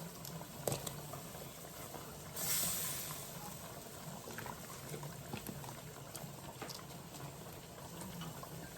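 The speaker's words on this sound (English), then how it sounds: "now we're gonna drop onions" Onions dropped into a simmering pot for black-eyed peas and greens: a steady bubbling boil throughout, with a brief splashy burst partway through as they go in.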